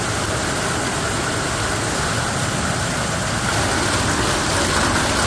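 Hail and heavy rain pound steadily on a car body with its engine running, a dense, loud, unbroken drumming roar close by, without voices.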